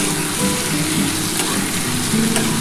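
Potato and pointed gourd fry in a pan, giving a steady, close, crackling sizzle that holds evenly throughout with no voices.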